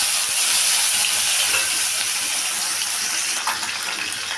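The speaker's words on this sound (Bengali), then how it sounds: "সেই মাছটা আমি এখন একটু ভেজে নেব।" Two pieces of fish marinated in salt and turmeric fry in oil, giving a steady, close hissing sizzle with faint crackles that lasts throughout.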